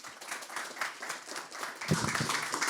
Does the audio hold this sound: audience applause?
yes